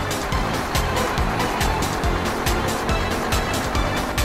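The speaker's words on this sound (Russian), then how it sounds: "Иду на обгон." A car overtaking an older driver on the road, engine and tyre roar loud and steady close by, with repeated low pulsing surges throughout.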